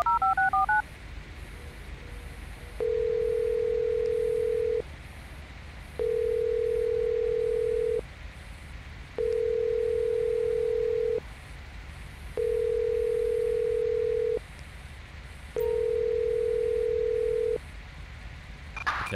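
A cell phone call in the GTA 5 video game: a short burst of keypad dialing tones, then five long, evenly spaced ringing tones over a steady background hiss.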